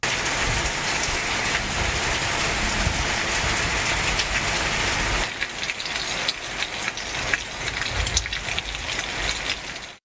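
Heavy monsoon rain pours steadily in Vellore, Tamil Nadu, a dense continuous hiss that thins slightly halfway through into sharper individual drops and splashes on surfaces.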